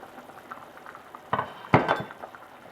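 Orzo meat soup simmers in a covered pan, giving a faint, steady bubbling with a couple of sharper clinks of metal near the pan.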